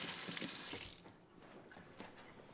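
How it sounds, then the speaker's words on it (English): Hands rinsed under a running kitchen tap, a soft broadband hiss of flowing water that is strongest for the first second, then fades to lighter splashing. "Let me rinse my hands off quick."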